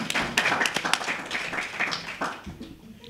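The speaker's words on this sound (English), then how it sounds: "A round of applause" Audience at the Motherwell Freedom Race launch in Nelson Mandela Metro giving a round of applause, a steady patter of close, mid-loud claps lasting about three seconds and tapering off near the end.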